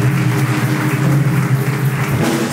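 A church congregation applauding, a dense, continuous wash of clapping that stays loud and even throughout, with a low sustained tone underneath.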